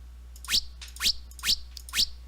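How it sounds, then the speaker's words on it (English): Four quick electronic whooshing chirps from a side-scroller game's dash sound effect, rising sharply in pitch, repeated at an even rhythm over a low steady hum. "let's go with the dash sound"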